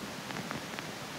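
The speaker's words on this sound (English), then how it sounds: "Some white noise." A faint, steady hiss of white noise layered into a phonk beat, a soft continuous wash with a few slight crackles, heard alone.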